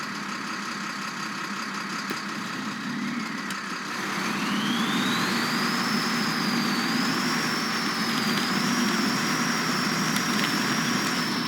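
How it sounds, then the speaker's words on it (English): A Fleet Star truck engine in SnowRunner drones steadily at idle, then swells louder a few seconds in, joined by a rising, wavering whine that holds to the end without any talking. "turn on the engine in Fleet Star."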